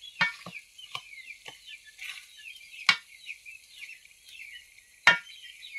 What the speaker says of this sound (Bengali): দেখে মাংসগুলো কষানো হচ্ছে।